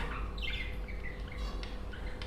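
A pair of finches in a small cage, chirping in quick high tweets and short squawky calls, close and moderately loud against a low background rumble, with no talk.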